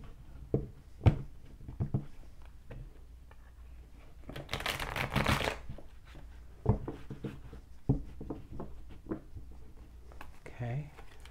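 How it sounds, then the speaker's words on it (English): A deck of tarot cards is shuffled by hand, with a papery riffling burst in the middle among softer taps and handling noises, close and fairly quiet. "Give these cards a good shuffle."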